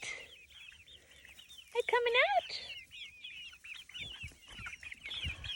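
Backyard hens cluck and warble near the listener in a steady chatter, with one louder rising squawk partway through. A person speaks softly to the birds.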